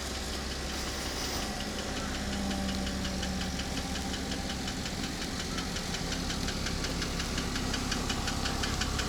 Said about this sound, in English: You can hear that Porsche engine. Tick, tick, tick, tick, tick, tick, tick.